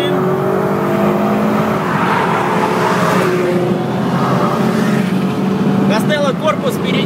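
Two Opel Astra OPC cars racing, one with a chip tune and exhaust and one with a GT2860 turbo: loud engines roaring close by, with rising revs and a whine as they pass, while someone talks over them.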